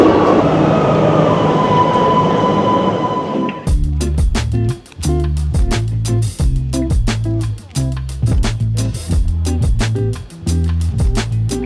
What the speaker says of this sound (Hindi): मेट्रो आ गया, वी नीड टू गो।